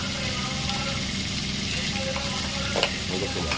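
Two large onions sautéing with salt in a pan for potato masala: a continuous sizzle and frying hiss with stirring scrapes, close and steady, plus a few sharper clinks near the end.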